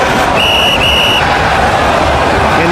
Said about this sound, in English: And now Fonzie blowing the whistle at Cyrus, distracting him.